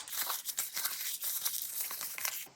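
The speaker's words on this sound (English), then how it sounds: "Let's crumple it up a bit as well." A sheet of paper for a junk journal is crumpled by hand, giving dense crinkling and crackling bursts. They are quiet and close, continuous for a couple of seconds.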